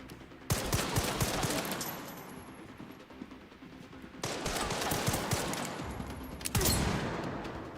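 Enemy gunfire in the video game Resident Evil 9 erupts in dense bursts, loud and sustained with sharp onsets, and no talk over it.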